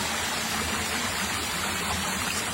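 Water in a mountain stream rushes steadily and loudly, a dense continuous flow with no pauses and no voices.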